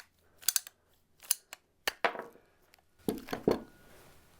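A 2-inch ratcheting PVC pipe cutter working through PVC pipe: a series of sharp, close clicks and cracks in uneven bursts, ending in a louder cluster of snaps as the cut finishes.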